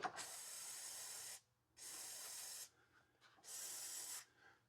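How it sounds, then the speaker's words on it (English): Brake cleaner hisses from an aerosol can into the tops of vehicle fittings in three steady bursts of about a second each, close and fairly loud, with short quiet gaps between sprays. "I'm spraying brake clean into the tops of the fittings here just to clean out any dirt and debris."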